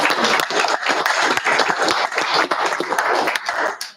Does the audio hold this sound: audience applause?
yes